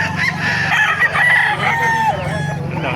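Hens and roosters at a crowded chicken market in Bocaue, Bulacan, cluck and crow close by, with overlapping calls in a busy, continuous din.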